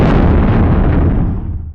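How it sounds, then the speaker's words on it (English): A designed firework explosion boom, low-passed and driven hard through a Filter Freak for gritty texture: one loud, sudden blast that rumbles and decays over under two seconds, alone. "really emphasizing the boom. Yeah. And then I drove it even harder with Filter Freak."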